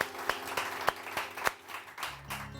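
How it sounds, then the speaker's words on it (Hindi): Rhythmic clapping from a small group on a morning television show, steady beats roughly three per second, with a low hum underneath. "इनके लिए बहुत सारी तालियां आतम प्रकाश साहब के लिए"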